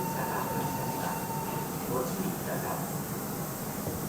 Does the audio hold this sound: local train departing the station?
yes